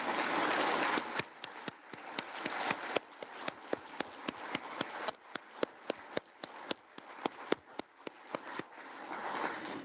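Audience applause at a Defense Acquisition award ceremony at Fort Belvoir, a dense sustained wash of hand clapping with sharp individual claps standing out throughout, steady and fairly loud across the room.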